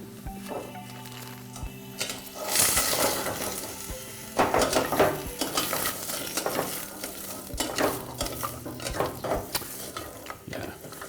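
Squash pieces and turmeric sizzle in a hot pan while being stirred and tossed, giving a steady close crackle broken by scraping and clattering utensil strokes, with no speech.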